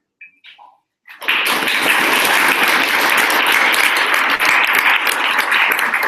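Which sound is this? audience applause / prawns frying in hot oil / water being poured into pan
audience applause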